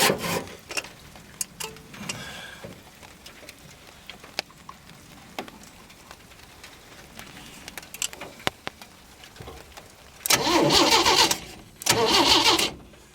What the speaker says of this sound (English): it sounds decent cranking over.